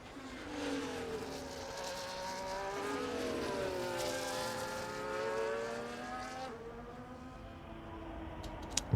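Formula-style race car engine in an RSF1 sim-racing league round at Brazil, droning steadily at high revs with pitch sweeping up and down through gear changes on a push lap, close and continuous, then cutting off abruptly near the end.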